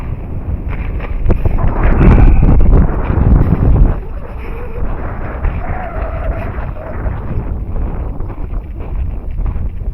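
Strong wind buffets the microphone outdoors on a gusty day at an RC flying field, loudest in a heavy rumbling burst early on, then a steadier rushing roar.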